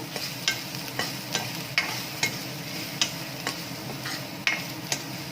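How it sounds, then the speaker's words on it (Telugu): Unpeeled garlic cloves, about ten to fifteen, fry in hot oil for tomato rasam, giving a steady sizzle broken by sharp spatula ticks against the pan every half second or so, up close with no talking. "ఇలా వెల్లుల్లి కొద్దిగా ఫ్రై అయిన తర్వాత"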